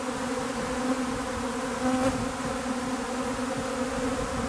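Swarm of honeybees buzzing outdoors after swarming, a dense steady hum of many wings close by, holding level throughout without pause.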